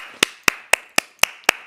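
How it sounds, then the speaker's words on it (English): A handful of claps from a small studio audience, six sharp, evenly spaced hits about a quarter second apart, close and isolated against near silence. "please give us a round of applause"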